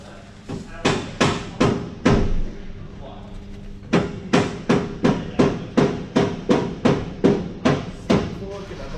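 Mallet blows strike metal while side steps are fitted to an Isuzu D-Max pickup, sharp close knocks in quick bursts of four or five, with pauses between groups.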